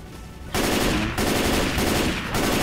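Rapid, loud bursts of gunfire-like blasts from a grenade launcher firing creepers as ammo in the Minecraft mod Deathcraft, with two sustained volleys separated by brief gaps.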